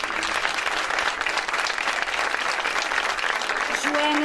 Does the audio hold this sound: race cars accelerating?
no